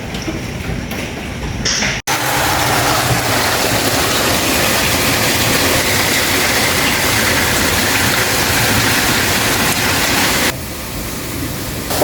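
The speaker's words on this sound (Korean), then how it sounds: "지금 비가 엄청나게 오고 있어요" Heavy rain pouring steadily in south-western France, a dense, loud broadband hiss that continues unbroken for several seconds and drops slightly in level near the end.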